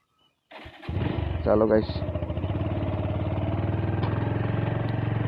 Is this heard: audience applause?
no